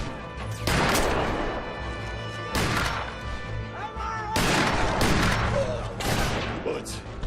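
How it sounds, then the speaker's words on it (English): Gunfire erupts in a film battle scene on a rooftop, with loud bursts of shots and crashing impacts in several waves across the clip, mixed with shouting voices. "Bullets."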